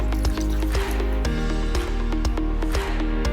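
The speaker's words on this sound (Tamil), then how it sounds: "இதுல ஒரே ஒரு கிளாஸ் தண்ணி விடுறேன்." A glass of water gushes and splashes into a pot of potatoes in one continuous, fairly loud pour, with sloshing and dripping close up.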